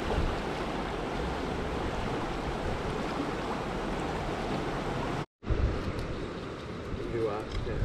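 Wyomissing Creek flows in a steady broadband rush, close and continuous, with a brief cut partway through and faint talking near the end.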